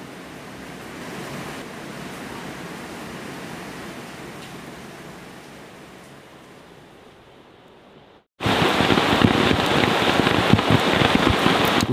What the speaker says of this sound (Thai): ในขณะที่เรารอให้ฝนหยุดตกนะครับ